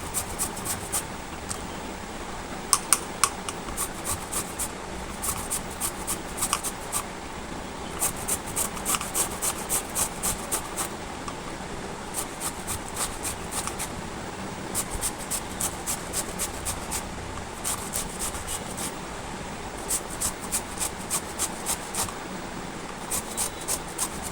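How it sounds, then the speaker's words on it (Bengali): A bottle gourd is rubbed against a kitchen grater in a steady run of quick rasping strokes that continues throughout, close and moderately loud, with short pauses between bursts and no talking. "এবার গেটারের সাহায্যে আমি লাউটাকে ঘষে গ্রেট করে নিচ্ছি"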